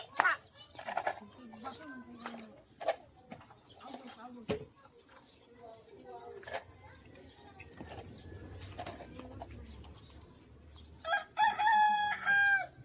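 A rooster crows loudly near the end, after scattered clucks, rustling and brief bird calls across the quieter stretch before it.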